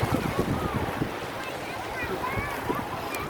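Sea waves splash and wash steadily onto the beach at Pattaya, Thailand. Gusty wind buffets the microphone, and faint voices murmur in the background.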